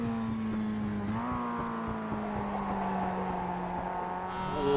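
A Mazda MX-5 race car engine in the iRacing sim at Bathurst drones steadily at high revs, with a brief dip and pitch shift as it changes gear, then holds a smooth whine to the end.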